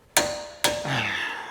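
Two sharp metallic clicks from a torque wrench tightening brake bolts to 200 newton meters on a MK8 Golf GTI, half a second apart and close, each ringing briefly.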